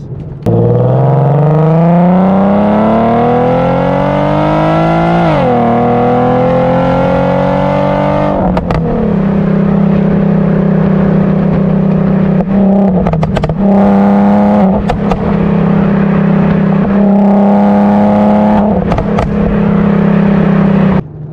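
A loud tuned Infiniti Q50 engine with a burble tune revs and accelerates, pitch climbing through several gear changes, with rapid pops and crackles between revs; no voices.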